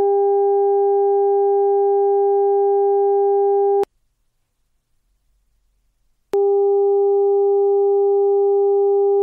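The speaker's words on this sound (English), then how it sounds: "The first is a 400 Hz pitch generated using a sinusoidal input." A 400 Hz pitch from a dielectric elastomer loudspeaker driven by a sinusoidal input sounds as a steady, slightly buzzy tone with audible overtones for about four seconds. After a pause of silence, a similar tone resumes and holds to the end.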